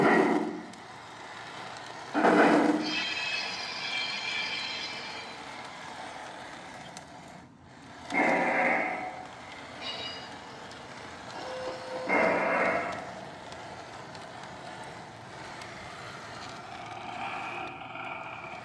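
A Lionel Freight Sounds boxcar running at minimum volume gives off faint, intermittent groans and squeals, a few separate swells over several seconds against a quiet background hum.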